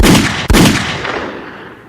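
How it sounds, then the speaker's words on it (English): Two loud gunshot sound effects played on a podcast fire in quick succession, each a sharp blast, with the second trailing off into a long, fading reverberant tail. "Hold up so y'all can hear my gunshots."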